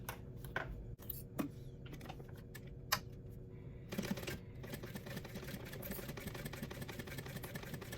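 A sewing machine stitching a purse zipper panel, first a few scattered taps and clicks, then a steady rapid mechanical whir of stitching running close and quiet to the end.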